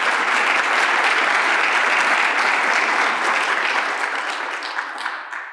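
A conference audience at a youth activism and advocacy panel claps in loud, sustained applause that holds steady, then thins and fades toward the end, with no talking over it.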